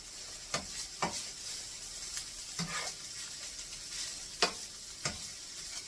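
Onions frying in a pan are stirred with a utensil, giving a soft continuous sizzle broken by several sharp scraping strokes at irregular intervals.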